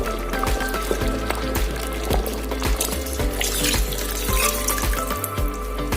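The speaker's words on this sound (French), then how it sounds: "Je vais encore ajouter un peu d'eau." Water pouring into a pot of thick peanut sauce with smoked chicken, a steady running stream close by with faint clinks, no talk.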